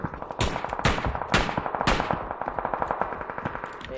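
Automatic gunfire rings out in the video game PUBG, rapid bursts and repeated shots echoing at moderate loudness, some sharper cracks standing out, with no voices.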